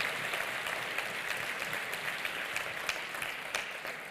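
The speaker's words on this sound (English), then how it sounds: "Let's give him a round of applause." Audience applause fills a Hall of Fame induction ceremony hall, a steady dense wash of many hands clapping at moderate level, continuing evenly without voices.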